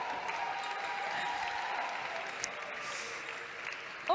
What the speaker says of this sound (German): Ein extra Applaus.